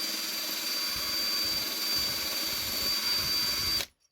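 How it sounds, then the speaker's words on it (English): A drill fitted with a wire wheel brush strips paint from a Series III Land Rover 109 rear tub, whirring steadily with a high whine and scratchy abrasion, then cutting off abruptly at the end. "So one of my recommended tricks when using a wire wheel is to always alternate directions."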